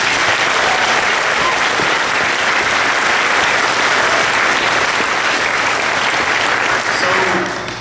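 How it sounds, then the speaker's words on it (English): Sustained loud applause from a large crowd at an awards event, dense clapping continuing steadily for several seconds before tapering slightly at the end. "Please give a big round of applause for the team that's come together to make this happen"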